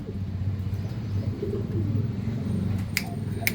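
A female pigeon of the Elisa line coos softly in a low, rolling murmur, faint and steady against quiet background noise, with a couple of sharp higher clicks near the end.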